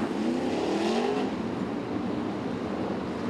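Sprint cars on the Perth Motorplex clay oval, engines roaring together as the field breaks away into formation, a loud sustained mechanical drone with rising pitch sweeps early on, then a steady, slightly fading roar.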